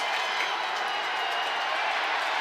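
A football stadium crowd at a college game roars in a continuous, dense wash of cheering, loud and sustained with no talk on top.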